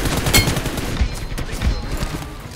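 Gunfire and headshots in a mobile shooting game, a few loud close shots and short bursts spaced through the moment, with little else around them.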